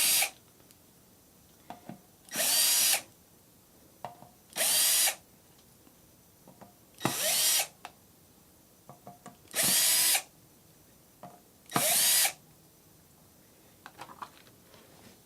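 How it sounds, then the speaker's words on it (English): A power drill spins out the screws of a Stratocaster guitar's back plate in five short, loud whirring bursts, each about a second long, separated by quiet pauses with light clicks and handling noise. "to save a little bit of time, I've got my trusty drill out"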